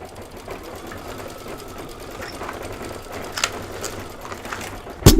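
A Kimberbell embroidery sewing machine stitches out a design with a steady, close, rapid mechanical whir and needle chatter, running alone, then a clunk at the end.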